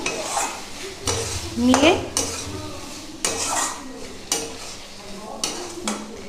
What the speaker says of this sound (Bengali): ধনেপাতা দিয়ে একটু ভালো করে নাড়িয়ে চাড়িয়ে নিলাম।